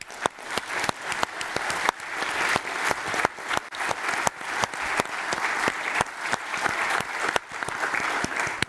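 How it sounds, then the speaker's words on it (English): Audience applause at the closing of a network operators' conference, with sharp individual claps standing out near the microphone over a steady wash of clapping from the room. "thank you and a very big round of applause to all presenters and submitters who made this conference possible"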